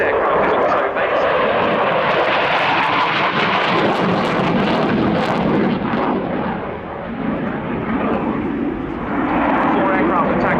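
A Dassault Rafale C fighter jet roars past at an airshow, a loud, rumbling, sustained jet noise that swells and fades over about ten seconds while a commentator talks.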